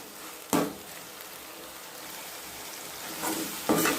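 Egg thokku masala sautéing in a pan, a soft continuous frying hiss broken by a few sharp scrapes and stirs of a spoon against the pan, close by, with no talking.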